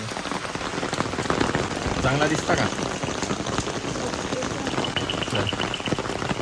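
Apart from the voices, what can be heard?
rain falling on an umbrella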